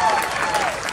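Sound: audience applause

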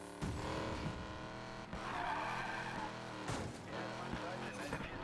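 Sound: drift car tires skidding in Need for Speed Payback video game

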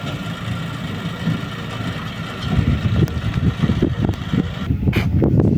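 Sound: tractor with trailer arriving carrying a cow

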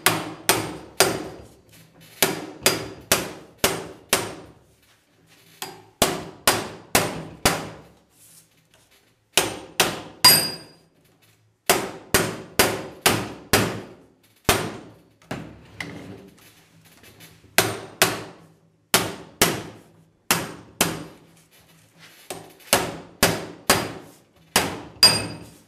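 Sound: hammering a 1934 Hupmobile door skin with a slapper

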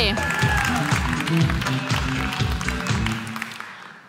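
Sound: audience applause

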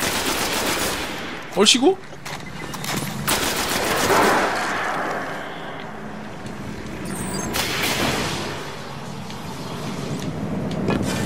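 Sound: gunfire in video game Destiny

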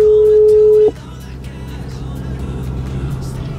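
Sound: mobile phone call ringing tone

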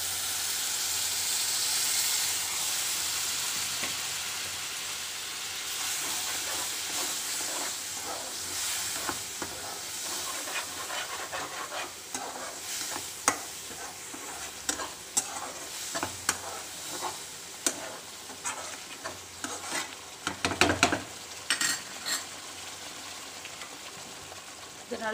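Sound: tamarind paste frying for garlic pickle

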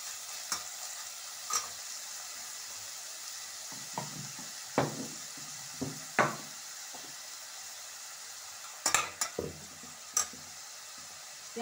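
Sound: onions frying and being stirred in a pan for aloo matar sabzi

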